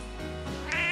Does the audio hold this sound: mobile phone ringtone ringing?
no